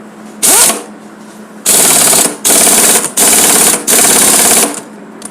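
An impact gun tightens a 17 mm nut on a BS6 Honda Splendor motorcycle engine in a workshop: five loud, close, rattling bursts, each lasting about half a second to a second, separated by short pauses.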